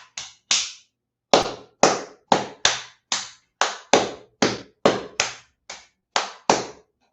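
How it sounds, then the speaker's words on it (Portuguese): Thirteen crisp, separate hand claps of the 'star clap' body-percussion kind ring out one by one in a steady, unhurried rhythm, each sharp snap ending in silence, with a longer gap after the first two. "Palma estrela."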